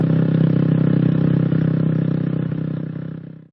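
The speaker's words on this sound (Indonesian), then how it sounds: "Itu kan suara motor gua." A motorcycle engine runs steadily at close range, a loud continuous drone with a low rumbling tone, used as a sound effect in an Indonesian animated drama, then cuts off abruptly.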